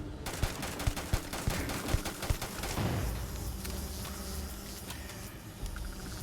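Gunfire from a weapon in the video game Starfield; a quick burst of sharp shots in the first few seconds, then a sustained rumbling wash of game noise, with no talking.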